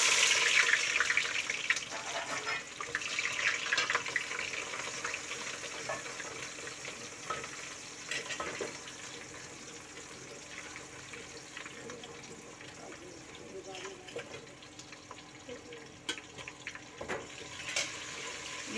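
Whole spices (fenugreek, cinnamon, cloves, black pepper, bay leaf) crackle and sizzle in hot oil for an aloo baingan curry, a soft steady frying hiss with scattered pops throughout, fairly quiet and continuous; no talking.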